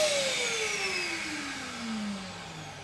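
A Karcher WD3 wet and dry vacuum cleaner winding down after being switched off, its whine gliding steadily lower in pitch as the motor slows, loud and close with no voices.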